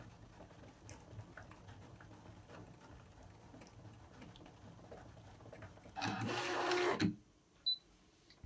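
A Brother ScanNCut DX cutting machine cuts a stamp kit sheet: quiet faint clicks and shuffles give way to a loud, dense whirring burst of about a second, then a short closing whir.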